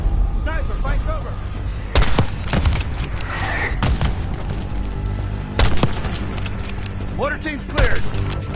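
Mortar blasts and gunfire in the Black Ops 6 video game, with heavy booms and sharp bursts striking around two, four, five and a half and eight seconds over a constant rumble of battle, while voices call out under the fighting.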